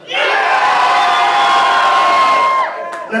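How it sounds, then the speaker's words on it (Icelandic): Everyone in red in a concert crowd screams all at once, and the roar of many voices holds loud and unbroken for nearly three seconds before it falls away. "Alla sem er í rauðu öskra í tvö og."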